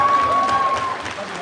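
Wedding guests applaud a dance group, a broad wash of clapping and crowd noise with voices mixed in, fading slightly toward the end.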